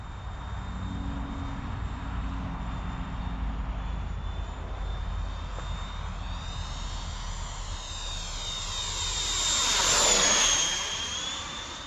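A Freewing A-6 Intruder radio-controlled jet with an 80mm electric ducted fan makes a pass, its high whine sweeping in pitch and swelling as it passes close by, then fading, with steady wind noise underneath.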